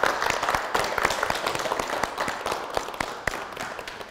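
Audience applause on a family game show semifinal, steady rhythmic clapping from a studio crowd lasting several seconds and gradually fading slightly.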